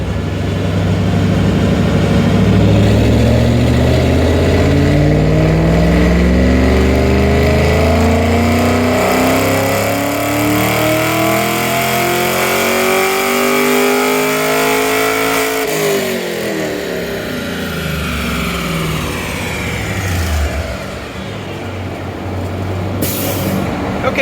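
A car's engine revving hard on a dyno during a run on an 87 octane tune, the pitch climbing steadily through the gears before dropping off and settling to a rumble, loud and close with no talking.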